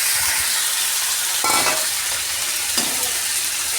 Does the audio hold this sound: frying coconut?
yes